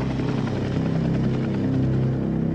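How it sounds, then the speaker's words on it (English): A helicopter circles overhead, its rotor and engine making a steady, loud, droning roar with a low hum underneath. It goes on without break and no one speaks. "The helicopter circles for 20 minutes, then disappears as suddenly as it arrived."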